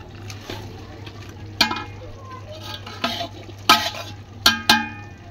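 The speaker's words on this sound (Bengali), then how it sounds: "তো মাংসটাকে দিয়ে কষিয়ে নিচ্ছি" About 3 kg of meat being stir-fried in a pot, a spatula scraping and knocking against the metal every second or so over a low sizzle and steady background hum.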